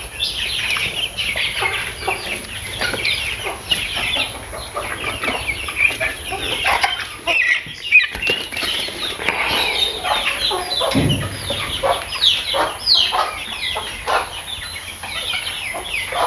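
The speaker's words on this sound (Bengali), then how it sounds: "যে দেশি জাতের যে মুরগিগুলো আছে এগুলো আলাদা করতে পারলে তাহলে ঠিক আছে।" Local breed chickens cluck and call repeatedly in a village yard, near and fairly loud, with overlapping bursts of fowl chatter throughout and no talk.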